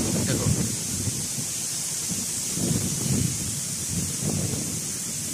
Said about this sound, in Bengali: এই দেখো বাতাস, তাড়াতাড়ি চলে যেতে হবে, বাতাস একটু তো বাড়তেছে